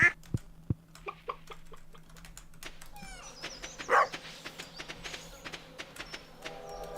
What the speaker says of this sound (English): I'll pet our dog later.